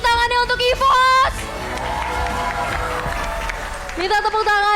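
An esports arena audience at an MPL Indonesia Season 10 Mobile Legends regular-season match applauds EVOS Legends: a steady, loud wash of crowd clapping and cheering fills the middle, with a host talking over the start and end.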